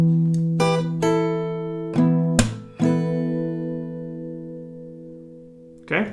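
Acoustic guitar playing notes from a song with a down, clap, down strumming pattern: separate plucked and strummed chords ring out with sharp percussive attacks, close and moderately loud, no talking.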